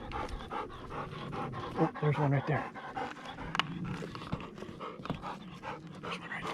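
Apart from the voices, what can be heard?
hunting dog panting after retrieving a dove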